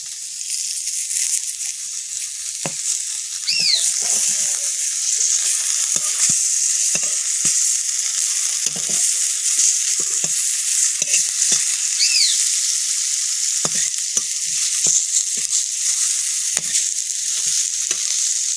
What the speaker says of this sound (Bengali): বেগুনগুলো ভাজা হয়ে গেছে তুলে নেব